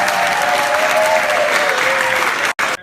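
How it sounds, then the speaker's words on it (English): Audience applause fills a graduation ceremony hall, a loud, sustained wash of clapping from many hands that cuts off abruptly near the end. "let's first clap for them"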